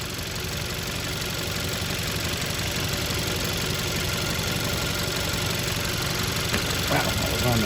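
A 2011-2017 Hyundai Accent GDI engine idles steadily with a constant mid-pitched drone and slight knocking vibration, close and continuous throughout.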